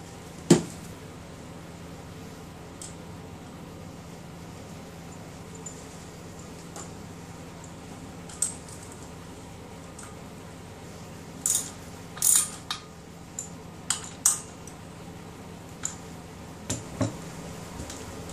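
A ratchet clicks in short, scattered bursts while bolts on an SR250 motorcycle are snugged down in a star pattern, close and crisp against a quiet workshop hum, with no talking.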